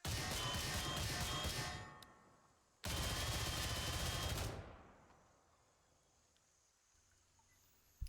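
An M16A1 rifle in the video game Gray Zone Warfare fires two loud sustained bursts of automatic gunfire, separated by a brief gap, with the echo fading slowly afterward.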